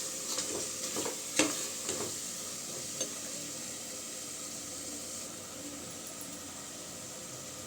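Chicken biryani masala frying in a pan while being stirred, a continuous near sizzle and hiss with a few scraping strokes at the start before it settles into steady frying, no voices.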